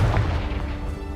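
A Confringo blasting spell explodes in Hogwarts Legacy, a heavy low booming rumble that fills the moment and rolls on without letting up, loud and close, with no talking.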